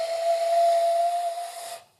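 A single sustained, steady hand-cupped whistle imitating a bird call, loud and close, holding one clear tone for nearly two seconds before cutting off into silence; a human voice imitates the bird.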